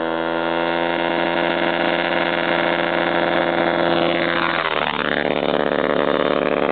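A Yamaha TT-R230 dirt bike engine runs steadily and loudly close by while being ridden, a buzzy droning tone that dips and swells once as the revs change near the end.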